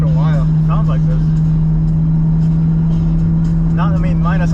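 Car exhaust drone while cruising on a California interstate highway, a steady low hum running continuously beneath people talking inside the car.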